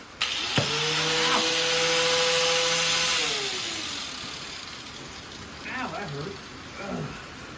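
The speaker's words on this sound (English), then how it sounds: "So let's grab the old Sawzall." A Sawzall reciprocating saw cuts through an old exhaust on a car outdoors, a loud continuous buzzing whine for about three seconds that slows and fades, followed by scraping and shuffling sounds.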